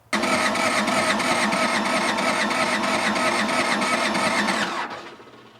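A skid steer's starter motor cranks an engine with broken piston rings, a loud, steady mechanical whir with a fast rapid chug running continuously for almost five seconds, then cutting off abruptly.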